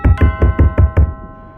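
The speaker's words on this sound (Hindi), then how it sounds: "जोर जोर से किसी के दरवाजे को खटखटाने की आवाज़ भी आकांक्षा के" Loud knocking on a door, six heavy evenly spaced thuds over about a second, close and alone with no voices, used as a horror sound effect.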